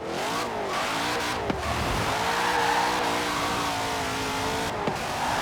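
Twin Mill on 385-width race tyres in Forza Horizon 4, engine roaring at high revs with rising harmonic whine and tyre squeal as the wheels spin without grip, loud and continuous.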